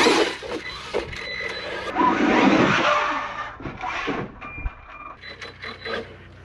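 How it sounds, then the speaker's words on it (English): Axial Ryft RC rock crawler with a 2200 kV motor given a half-throttle burst, a rising electric whine with drivetrain and tire noise peaking near and loud, then easing off amid rustling outdoor terrain. "I'll just give it a little half throttle bump here."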